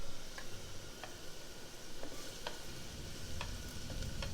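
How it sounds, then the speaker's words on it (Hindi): Onion and garlic sizzle softly in a pan. The quiet, even frying hiss runs throughout, broken by a handful of light ticking taps from a spoon stirring, with no voices. "अब इन दोनों को आपने अच्छे से ब्राउन कर लेना है।"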